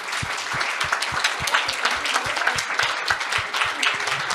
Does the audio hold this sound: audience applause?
yes